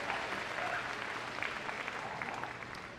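Continuous audience applause rings out at Crufts during a rescue dog agility event, a broad, even wash of many hands clapping from a distance, quite faint and steady throughout.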